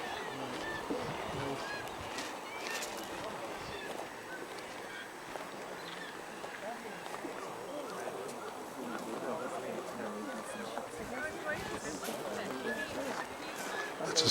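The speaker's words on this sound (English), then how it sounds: "Listen to the birds." Birds call outdoors on a coast facing the Atlantic in a steady, busy chorus against a broad wash of background noise, with honking calls that may be geese or other fowl.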